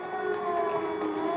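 An air raid siren wails in Israel in 1991 in a sustained, steady tone that sounds fairly distant, with no voices.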